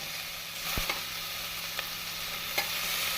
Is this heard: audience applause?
no